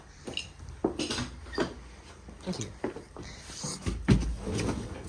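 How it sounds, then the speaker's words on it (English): Door clunks and latch clicks from a boat builder's reimagined Citroën 2CV, several sharp knocks and a heavier thud near the end, close by, with people talking over them. "let me open the door for you"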